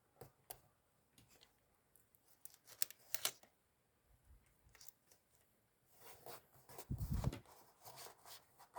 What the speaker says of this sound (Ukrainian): І от я виріжу некоторі картинки